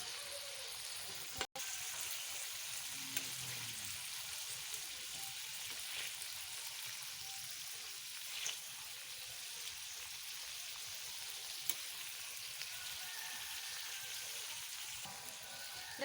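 Rupchanda fish wrapped in bottle gourd leaves fries in a pan with a soft, even hiss of oil that runs steadily throughout, broken by a sharp click near the start and a few faint pops.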